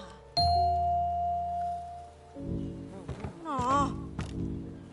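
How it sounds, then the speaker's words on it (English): Bells ring in the video game Ghost Giant, a few sustained chime tones struck one after another with long decaying tails, followed by a brighter run of warbling melodic notes, fairly close and clear. "Let's make some music. Ring the bells."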